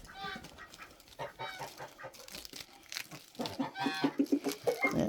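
Backyard chickens cluck and chatter in short, irregular bursts near the microphone after being tossed a chunk of food, with scratching and rustling between the calls.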